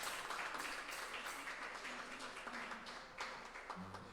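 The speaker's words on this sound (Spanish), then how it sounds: "Demos un aplauso a nuestro Dios" A church congregation applauding for God during a Sunday worship service, a steady wash of clapping from many hands lasting throughout, with faint voices beneath.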